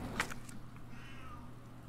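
A cat meows in the room while a game plays, with one short cry near the start standing out over steady low background hum and game sounds.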